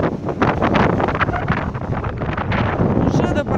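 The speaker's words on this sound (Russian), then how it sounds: "Волна добегает до парапета уже." Stormy sea at a beach in Nha Trang, with heavy wind buffeting the microphone over rough, crashing surf, loud and continuous, with someone speaking briefly.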